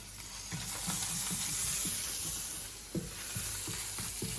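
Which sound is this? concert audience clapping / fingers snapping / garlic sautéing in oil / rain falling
garlic sautéing in oil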